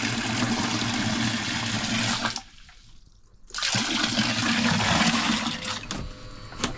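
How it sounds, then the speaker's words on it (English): A bucket of water is poured into a boat bilge, a loud close gushing splash that breaks off briefly and then pours again strongly before tapering, with no talk. "to pour this full bucket of water in"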